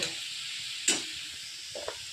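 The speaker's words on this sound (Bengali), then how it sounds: "প্রথমে ভেজে নিচ্ছি এবার" Potato, carrot and onion fry in a pan with a soft, steady sizzle, broken by a brief sharp spatter and a couple of faint utensil taps.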